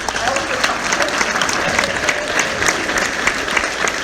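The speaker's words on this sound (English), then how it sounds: "give her a round of applause" A crowd at a 2019 psychic medium event in Los Angeles bursts into loud, dense applause, sustained claps crackling evenly for several seconds, with some voices faintly mixed in.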